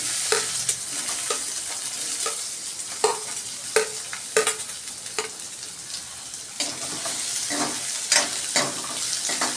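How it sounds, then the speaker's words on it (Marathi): Onion frying in a spoonful of oil in a wok hisses steadily, with repeated scraping strokes of a stirring spoon cutting through the sizzle at an uneven rhythm. "आता मी 1 चमचा तेल टाकून घेते कढईमध्ये आणि त्याच्यामध्ये हा कांदा टाकते"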